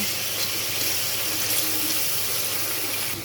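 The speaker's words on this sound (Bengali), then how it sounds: "তো আমি আবার একটু জল দিয়ে দিলাম আলুটাকে সেদ্ধ করার জন্য" Water pours steadily into a pot of spiced potatoes for boiling, a continuous close splashing rush with no talk, while preparing a Bengali egg and chickpea dal.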